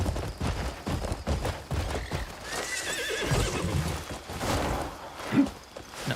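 A horse whinnies amid steady clip-clop hoofbeats in the video game Crimson Desert, with a busy game-like mix of background effects and occasional sharp bursts, fairly close and moderately loud.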